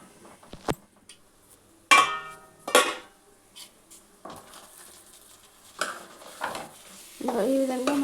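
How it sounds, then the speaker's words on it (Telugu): Cauliflower and eggs fry in a pan, heard as scattered scrapes and clanks of a spoon stirring against the metal, with a short soft sizzle building near the end, close and fairly quiet. "ఈ విధంగా మంచిగా ఫ్రై కావాలి."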